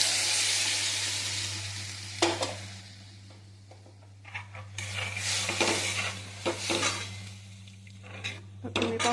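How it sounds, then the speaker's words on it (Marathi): Ambari masala sizzles and fries in a pan as cooked matki is stirred and poured in; steady frying hiss with intermittent clanks of a spoon against the pan, close and moderate in level. "हे परतून घ्यायचं आहे आणि लगेचच आपल्याला हे शिजलेली मटकी याच्यामध्ये ओतून घ्यायची आहे"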